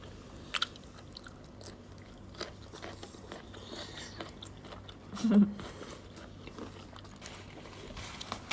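Close, wet chewing and biting of crispy shrimp in a spicy Thai seafood dish, steady mouth sounds with a louder crunch partway through, and no clear talking.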